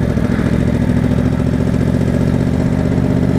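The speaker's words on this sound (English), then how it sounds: "She pulls along just fine." A 2020 Yamaha R1 motorcycle engine runs at low RPM while riding slowly, a steady, close, rhythmic low-pitched rumble with a pulsing beat throughout and no talk.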